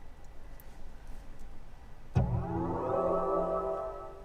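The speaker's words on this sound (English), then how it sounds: "That's what you can hear when you turn the car on." A 2020 BMW luxury car's electronic start-up tone sounds as the car is switched on: a sudden swelling chime with layered sustained tones that hold steady for about two seconds above a quiet cabin hum.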